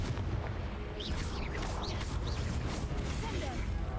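Confringo fire blast spell cast in Hogwarts Legacy on Switch 2, a series of loud booming bursts over a constant low rumble of game audio, with a spoken voice mixed in.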